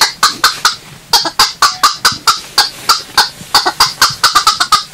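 Reed duck call with a vibrating reed inside, blown in a rapid string of sharp, loud quacking bursts in uneven rhythm, imitating ducks; no talk.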